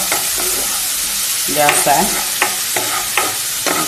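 Garlic and ginger frying in a pan on low heat, a dense, steady sizzle broken by several stirring scrapes, with a brief spoken word over it.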